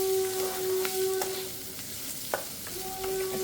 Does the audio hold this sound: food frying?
yes